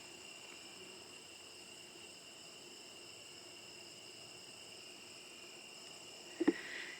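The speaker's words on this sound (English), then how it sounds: "Just the crickets, the frogs, the grasshoppers, the wind, the bees." A steady, high, continuous insect drone like crickets, faint and unchanging, with a single soft knock near the end.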